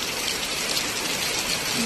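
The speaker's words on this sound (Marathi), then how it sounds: "आज पाऊस आला आहे" Heavy rain falls in a steady, dense hiss that continues unbroken throughout, with no voices.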